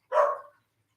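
A single short, sharp dog bark sounds close and clear, followed by silence.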